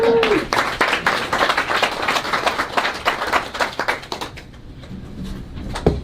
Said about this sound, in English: Another applause for Jim and his group